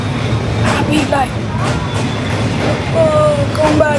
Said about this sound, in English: Look how close the train.